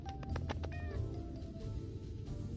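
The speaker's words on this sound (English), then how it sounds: "Cat noises." A cat meows repeatedly at close range, a series of short calls followed by a longer drawn-out cry, over a steady low background hum with no talking.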